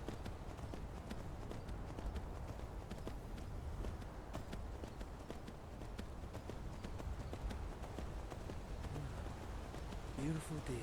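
Horse hooves clip-clop steadily at a walking pace in Skyrim, a continuous close rhythm over outdoor ambience, with a voice speaking briefly.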